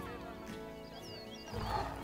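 A lion in the Planet Zoo video game gives a low, growling roar that swells loud near the end over a layered game soundscape of ambient music and animal calls.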